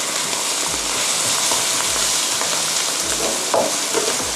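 Dark soy sauce and sugar are stirred and tossed through a hot pan for Thai chui kuay, a loud dense frying hiss with scraping strokes throughout, close up and without voices.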